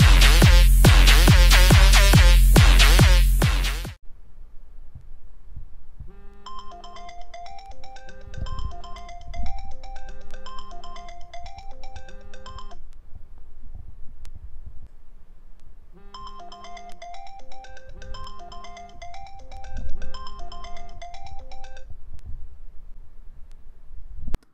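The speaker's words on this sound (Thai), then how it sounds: "เปลี่ยนเสียงเรียกเข้าให้กับเบอร์พิเศษ" An iPhone ringtone plays its bright, repeating melodic pattern at moderate level, running in two phrases with a short gap between them, preceded by a few seconds of a louder, denser burst.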